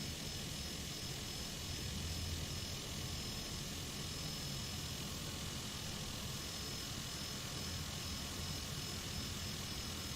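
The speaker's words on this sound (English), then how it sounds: "This is our plane. The dependable Cessna." Simulated Cessna engine in Microsoft Flight Simulator 2020 hums at a steady, even drone for the whole stretch, moderately quiet and unbroken, with no speech over it.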